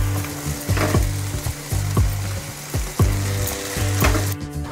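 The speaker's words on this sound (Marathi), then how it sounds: "आता आपण मेथीची भाजी टाकूया" Fenugreek leaves (methi) going into a hot pan for a Marathi-style methi bhaji, frying with a steady sizzle broken by repeated scraping strokes of a spatula against the pan, close and fairly loud throughout.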